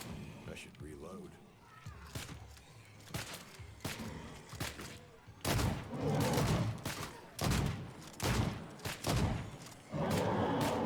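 Heavy gunshots at a Bloodblade Juggernaut in a video game boom in a string of loud, punchy blasts, several spaced apart, then a tighter cluster, with a person speaking between them.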